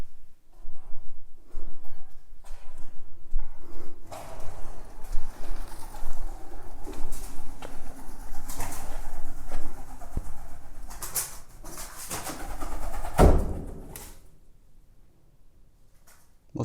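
Pigeons coo softly at night inside a château amid rustling and flapping close by, with a sharp knock near the end before things quiet down.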